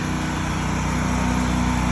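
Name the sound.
soft washing machine engine running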